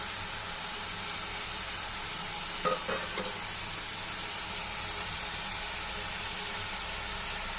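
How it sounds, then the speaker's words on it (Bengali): Poppy seed paste being stirred into dried-out ridge gourd in a hot pan, a steady hissing sizzle throughout with a few brief utensil scrapes near the middle. "পোস্তটা দিয়ে দিয়েছি, আমরা নেড়ে নেবো।"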